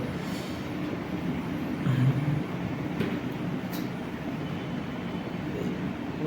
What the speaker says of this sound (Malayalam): ഒരു ട്രെയിൻ പോകുന്നല്ലോ, അത് എങ്ങോട്ട് പോകുന്ന ട്രെയിൻ?